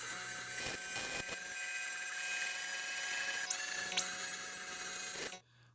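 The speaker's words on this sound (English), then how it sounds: "Here I'll use my belt sander to remove the paint in those low areas" Belt sander stripping paint from low spots on a dented car body panel, a steady high whining grind that holds for about five seconds, shifts pitch briefly, then cuts off abruptly.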